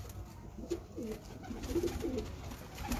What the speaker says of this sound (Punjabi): ਇਹ ਕਸੂਰੀ ਕਬੂਤਰ ਇਹ ਜੀ ਇੱਕ ਮੱਗਰ ਕਬੂਤਰ ਹੈ